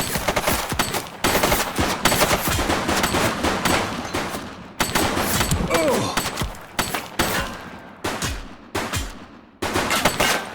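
Rapid bursts of automatic gunfire in a police shooter game, loud and close, with repeated volleys broken by short pauses and a few thuds.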